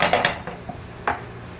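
A rubber scraper clatters against a cooking pan while a blintz crepe is flipped, giving a few quick scraping knocks followed by one clear clank, close by and with no talk.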